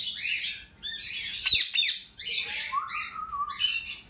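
Harsh, shrill screeches and chirps from a male blue ringneck parakeet repeat in quick bursts at close range, with brief pauses between calls and no talking.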